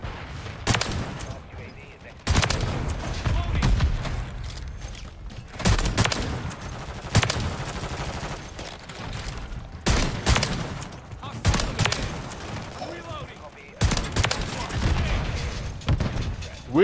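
Reclaimer 18 shotgun fire in Modern Warfare 3 comes as heavy, booming blasts in repeated bursts every few seconds, loud and close, with rattling gunfire and mechanical clatter between shots.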